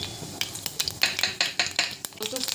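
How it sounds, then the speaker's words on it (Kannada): Cumin and mustard seeds sizzle in hot oil, with a rapid series of sharp crackles and pops over a soft frying hiss, close and fairly loud. "ಇಲ್ಲಿ ಎಣ್ಣೆ ಕಾಯ್ದದ ಜೀರಿಗೆ ಸಾಸಿವೆ ಹಾಕಬೇಕು"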